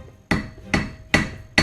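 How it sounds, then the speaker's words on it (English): Four sharp, evenly spaced hammer blows ring out on a metal crown as flat spots are hammered for mounting stones, each strike bright and close with a short metallic decay and no talking. "I'm hammering the flat spots"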